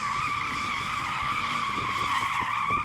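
A rear-wheel-drive car's tyre squeals continuously and loudly during a drag race, a sustained high-pitched screech over engine rumble.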